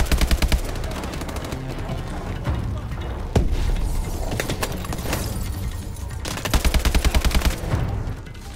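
Rapid automatic AK rifle fire in the Call of Duty Advanced Warfare video game, dense bursts opening and closing the stretch with sustained battle noise and single sharp reports between, loud and close.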